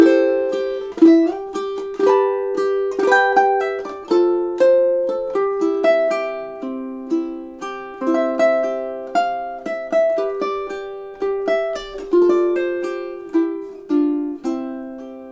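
A ukulele plays the chorus of a song, bright plucked chords struck one after another in a steady rhythm, each decaying quickly, played alone and close.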